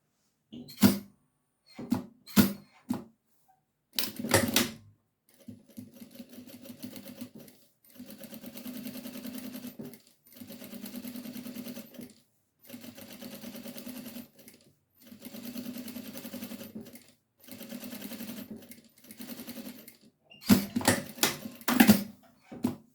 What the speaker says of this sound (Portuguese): agora eu vou passar uma costura de pesponto aqui em cima